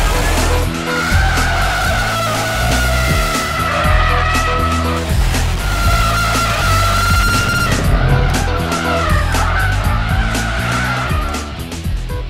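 A rally-bred sports car, Subaru WRX STI or Mitsubishi Evo X, accelerates hard on a track, engine revving through gears with rising pitch while tires squeal and skid, loud and close.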